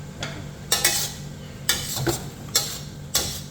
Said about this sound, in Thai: แล้วก็ผัดไปเรื่อยๆมันก็จะเริ่มแห้ง